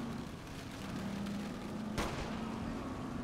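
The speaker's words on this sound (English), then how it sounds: "I'm not shooting people. I'm shooting tires." A single sharp gunshot aimed at car tires rings out partway through in Saints Row 3, a video game, over a steady bed of traffic and street ambience with a low engine hum.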